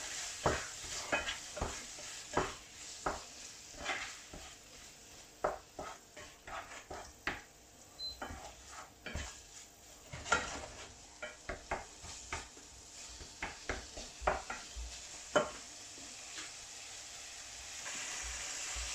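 A spoon stirs a paprika fish filling for bourek or brick pastry in a pan, making repeated soft scrapes and light clinks at an irregular pace over a faint, steady background.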